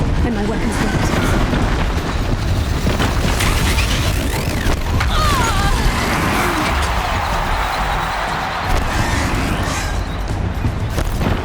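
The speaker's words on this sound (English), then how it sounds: "One more pillar and that platform will come down." A platform crashes down after its supporting pillar is destroyed in Horizon Zero Dawn, a loud continuous rumble of breaking and tumbling debris with heavy booms, under busy game noise.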